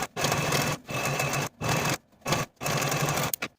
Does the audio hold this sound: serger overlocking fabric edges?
yes